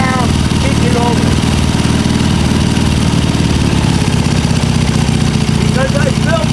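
A vintage motorcycle engine, a 1977 Triumph Bonneville or a 1973 BMW R90/6, runs steadily and loudly up close with a dense low throb through the whole stretch, while a voice speaks briefly over it near the start and end.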